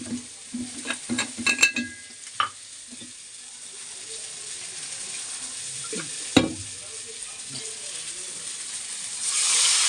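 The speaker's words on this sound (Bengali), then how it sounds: "চলো এটাকে কষাতে থাকি" Spice paste being stir-fried in a pan, with bursts of scraping and clinking stirring in the first few seconds and a sharp clack near the middle over a low, steady frying hiss that swells toward the end.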